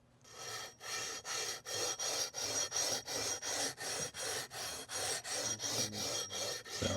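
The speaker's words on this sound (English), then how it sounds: "we've got some fresh sandpaper on this leveling beam" Fresh sandpaper on a leveling beam scrubs back and forth across the frets of a Reverend Billy Corgan guitar, a steady rhythm of about two dozen close, loud rasping strokes with no talk.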